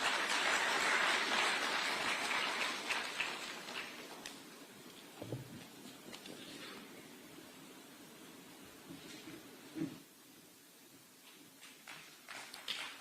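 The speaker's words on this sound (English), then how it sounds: "Another round of applause for him" Applause from a conference audience at an African sub-sovereign investment gathering: a broad wash of clapping, fairly loud at first, then tapering off into scattered, fainter claps and room noise.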